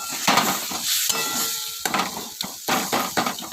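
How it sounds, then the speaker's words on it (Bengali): Bengali fish oil chorchori frying in a pan, a dense hiss and crackle with bursts of stirring and scraping, close and fairly loud, no speech. "এদিকে মাছের তেল চচ্চড়িটা আগে করে নিচ্ছি"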